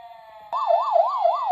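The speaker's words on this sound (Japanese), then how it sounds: "やってきたのはパトカーたち。" A cartoon police car siren starts with a steady tone, then switches to a loud, fast wail that rises and falls in a regular rhythm, with no voices.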